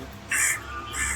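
Birds calling at a nest where adults and chicks gather, with two short, bright calls, the second following the first after a brief pause, close against a steady background hum.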